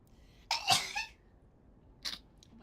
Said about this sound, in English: I'm gonna sneeze though.